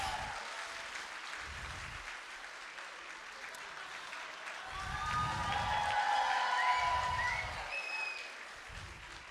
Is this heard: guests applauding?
yes